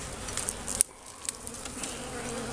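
Honeybees buzz steadily at an open hive during an early-season inspection in March, a dense close hum broken by a sharp knock or click partway through.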